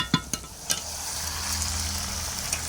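Meat and biryani masala frying in a pot, a close hiss of sizzling oil broken early by several sharp clicks of a spoon stirring against the pot, then a steady sizzle with no talk.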